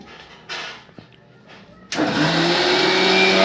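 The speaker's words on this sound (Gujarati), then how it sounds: "મિક્સરમાં ગ્રેવી ચાલુ છે કાંદાની ટમેટાની ગ્રેવી છે" A quiet kitchen with a few soft knocks, then a mixer grinder switches on abruptly and whirs loudly and steadily, blending onion-tomato gravy, until the end.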